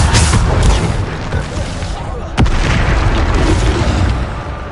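A Bombarda spell explosion in the video game Hogwarts Legacy, a loud booming blast that swells into a sustained roar with a sharp crack near the middle, dense and close.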